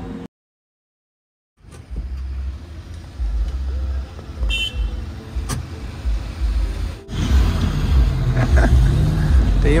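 Maruti Gypsy off-road vehicle heading out in a convoy: after a short silent gap, a rough rumbling engine and cabin noise build up, with knocks, a brief beep and louder jolting drive sounds toward the end.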